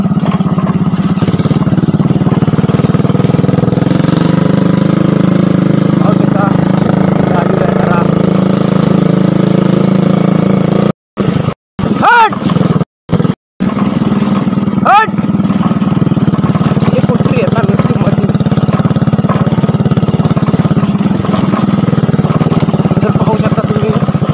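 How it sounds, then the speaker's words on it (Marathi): A motorbike with a slight engine fault idles nearby in a steady low rumble. Brief interruptions come midway, and a voice speaks over it. "थोडासा प्रॉब्लेम आहे गाडीचा, इंजिनचा."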